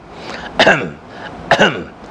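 A person clears their throat twice in a row, two short gruff bursts separated by a brief pause, close and fairly loud.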